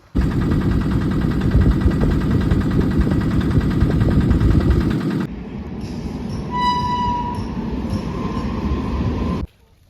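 A boat engine drones steadily as the boat passes between two coconut palms near Honnavar, Karnataka, loud and continuous at first, then a slightly thinner running tone with faint tonal whines before it cuts off abruptly near the end.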